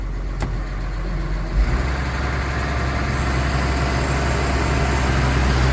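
A tractor engine idles steadily with a low, constant rumble while its hydraulics lower a grain bin onto a concrete pad, the tone thickening slightly partway through.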